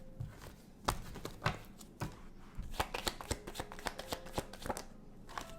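Tarot cards shuffled and pulled from a deck, a rapid run of crisp riffling flicks and snaps followed by sharper separate card slaps, close and fairly loud, with no voices.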